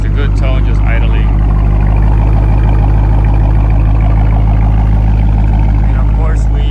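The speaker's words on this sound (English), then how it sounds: "It's a good tone just idling." A 2023 Dodge Charger RT Daytona with lowering springs idles with a deep, steady low rumble, while people talk close by over the engine.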